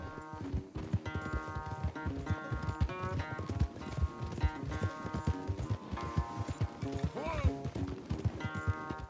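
Horses gallop hard in a race in Red Dead Redemption II, a rapid continuous clip-clop of hooves up close, with background music and a brief rider's shout.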